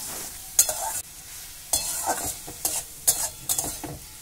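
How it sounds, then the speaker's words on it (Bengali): Spices with salt, turmeric and green chili paste are stirred and fried over a low flame in a pan for a tomato jhal, giving a steady sizzle broken by several distinct scraping stirs, close and alone with no talk. "লবণ, হলুদ আর কাঁচা লঙ্কা পেস্ট দিয়ে লো ফ্লেমে নাড়াচাড়া করে ভেজে নিলাম"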